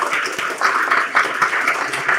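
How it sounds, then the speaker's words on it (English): Applause for a conference panel discussing industry careers and networking, a steady, moderately loud wash of clapping from the audience filling the whole stretch without speech. "Give a round of applause."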